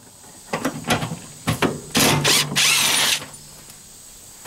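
Ratchet wrench removing fuel tank bolts on a 1971 Volkswagen Super Beetle: a few short clicking strokes, then a longer, louder run of rapid ratcheting, close by with no talk.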